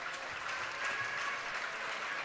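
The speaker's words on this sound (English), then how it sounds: "allows them to get a little applause from the crowd on their senior night game" Steady crowd applause fills a high school gym during a girls basketball senior night game, a continuous broadband clapping wash at even loudness with no voices standing out.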